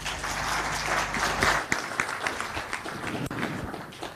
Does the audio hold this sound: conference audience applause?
yes